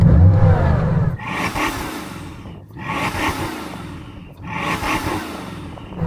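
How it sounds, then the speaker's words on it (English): A Bugatti Chiron engine revved three times in succession, each rev a loud rising roar that falls away before the next, close up. "I'm going to rev up this Bugatti first."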